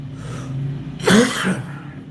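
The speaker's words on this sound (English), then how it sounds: "Excuse the cough, guys." A single short, harsh cough up close, standing out from a quiet background hum.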